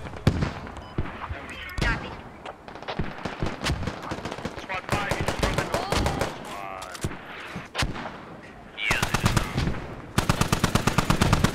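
Rapid automatic gunfire bursts and single shots from a Squad firefight, loud and dense with sharp repeated cracks, shifting from scattered fire to sustained volleys near the end.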